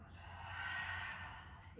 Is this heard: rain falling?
no